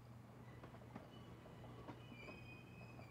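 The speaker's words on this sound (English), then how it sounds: "There's the train." A train in the video game Eastward rumbles and clatters steadily at moderate distance, with faint high squeals over a constant low drone and no voices.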